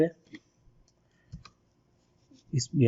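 A computer mouse clicks several times while working in CorelDraw 2020, giving sharp isolated clicks spread through the stretch, and a voice speaks near the end.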